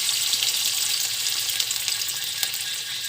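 Paneer sizzling in mustard oil in a kadai, a steady close hiss of frying with faint crackles and no voices.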